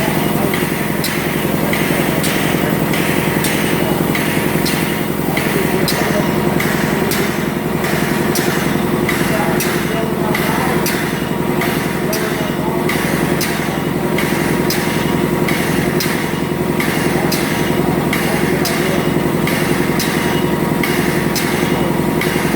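A hydraulic pump on an MTNB system runs steadily while filling a large 42 cubic inch accumulator, giving a loud, continuous motorized drone with a faint rhythmic pulsing throughout.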